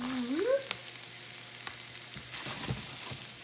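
Onions and pepper cooking in a pan with ground beef give a quiet, steady sizzle, opening with a brief squeaky rising tone and followed by a few soft clicks and stirring scrapes.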